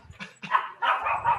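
A dog barks and yips indoors in a few short, close bursts, mixing sharp barks with whimpering, high-pitched yelps.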